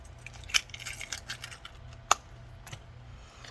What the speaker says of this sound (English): I have my house keys, mailbox key, PO box key, my CVS rewards card, and my big car key fob